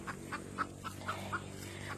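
A hen clucks and squawks in a series of short, repeated calls close by, over a low steady background hum.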